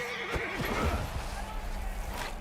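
Horse whinnies in the medieval combat game Mount & Blade II: Bannerlord, one rising neigh with hoof clatter, set in a continuous noisy battle bed.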